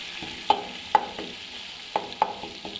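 Mutton mince being stirred in a pot as it fries: soft sizzling under a handful of sharp spoon scrapes and taps against the pot, close and fairly quiet, with no talk.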